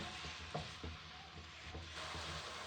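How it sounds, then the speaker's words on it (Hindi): Two finely chopped medium onions fry in a pan over medium heat, giving a steady close sizzle with a few soft scrapes or taps of stirring, and no talking. "प्याज़ों को लाइट ब्राउन करेंगे। दरमियानी आंच पे करेंगे।"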